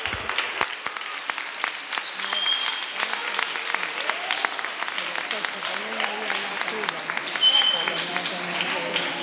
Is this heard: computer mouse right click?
no